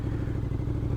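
A motorcycle fitted with a full-system aftermarket exhaust gives a deep, throaty pulsing rumble, close and steady for a brief moment.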